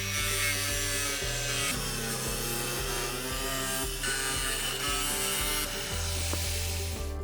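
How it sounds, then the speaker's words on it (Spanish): Cutting a corrugated roofing panel with an angle grinder or a jigsaw fitted with a metal blade: a loud, continuous buzzing, rasping cut with steady motor tone, close up and uninterrupted, no voices. "Manteniendo firmemente la amoladora o la sierra de calar con hoja de metal, cortamos la placa siguiendo la línea trazada con el rotulador."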